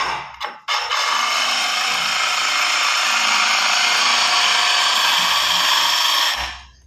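A power drill fitted with a diamond hole saw grinds steadily through ceramic tile, a loud continuous abrasive whine held for several seconds before spinning down, with no talking.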